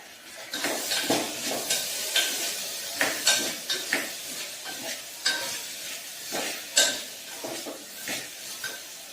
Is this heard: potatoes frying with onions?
yes